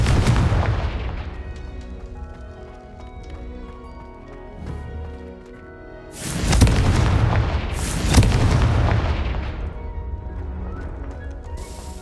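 Confringo fire-blast spell explosions in Hogwarts Legacy: several loud booming blasts, a strong burst early, then two big impacts around the middle with rumbling decay between them, no talking.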